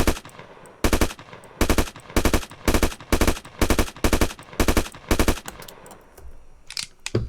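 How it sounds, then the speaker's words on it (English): Three-round burst fire from a modded video game weapon: loud, sharp bursts repeat about every half second across the clip, fading into quieter faint clicks near the end, with no voices. "Also, we now have burst, which is a 3-shot."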